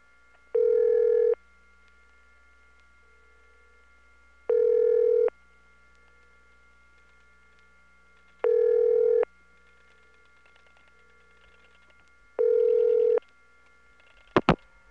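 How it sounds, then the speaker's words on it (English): A 1979 telephone central office line carries a steady hum while a faint tone pulses on and off in four even bursts. A brief click sounds near the end. "There's a whole group of oscillating trunks from the central office to the company"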